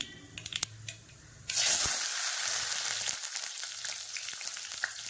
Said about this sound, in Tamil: கடுகு பொரிஞ்சதுக்கப்புறம் இதில் வெங்காயமும் ஒரு சின்ன வெங்காயம் வந்து ஒரு நாலு வெங்காயம் கட் பண்ணி வச்சுருக்கேன் அதை வந்து சேர்த்துக்கிறேன்